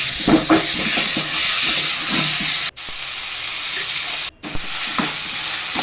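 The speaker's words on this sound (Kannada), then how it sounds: "ಟೊಮೆಟೊ ಹಾಕ್ಕೊಂಡು ಟೊಮೆಟೊ ಫ್ರೈ ಮಾಡ್ಕೊತ ಇದ್ದೀನಿ" Tomatoes and capsicum frying in a pan for pasta masala, a loud continuous sizzle with rhythmic scraping stirs up close, briefly cut off twice, no speech.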